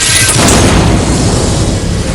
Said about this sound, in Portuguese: A explosão estilhaça as janelas, parte da parede e entorta o piso.